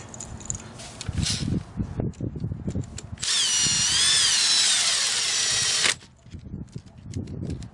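A power driver spins and tightens bolts during a Rekluse EXP clutch install on a BMW F800GS motorcycle, a steady whining run of a few seconds between stretches of handling noise and clanks.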